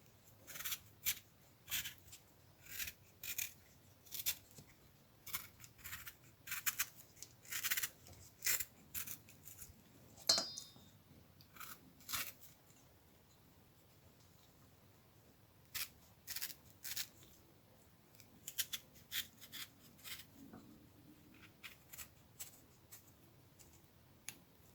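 A mango is peeled by hand for chutney, giving a steady series of short, crisp scraping strokes at close range, in rhythmic bursts with brief pauses, no talking.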